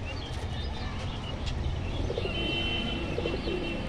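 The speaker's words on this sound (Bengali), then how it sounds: "এই হচ্ছে নর পায়রা আর এইটা হচ্ছে মাদা পায়রা।" Male and female pigeons in a loft give soft, low cooing calls with a few faint chirps over a steady background hum, fairly quiet and continuous throughout.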